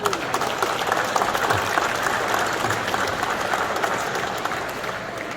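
Sustained applause from a banquet audience celebrating a Kyrgyz sports tournament in America, steady dense clapping filling the room throughout with a busy crowd murmur beneath.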